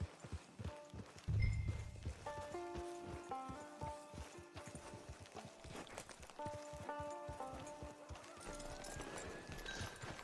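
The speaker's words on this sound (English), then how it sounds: "Get your horse." A horse's hooves clip-clop at a walk in the video game Red Dead Redemption 2, a steady rhythmic thudding under a soft musical score, with a snort partway through.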